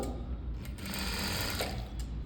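A sewing machine runs steadily, stitching along one layer of a puffed sleeve, a close, continuous mechanical whir with no talking.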